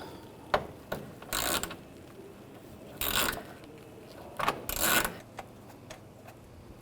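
A ratchet with a 7mm socket, universal joint and extension removes a screw behind the trim of a 2014-2018 GMC Sierra 1500, giving several short bursts of clicking separated by pauses, close and fairly quiet.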